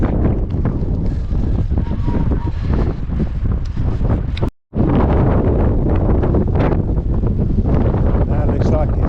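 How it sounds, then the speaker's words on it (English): Strong wind buffets the microphone outdoors on a hillside along the South Downs Way during a hike, a loud continuous roar with a brief dropout midway. "It's windy out here."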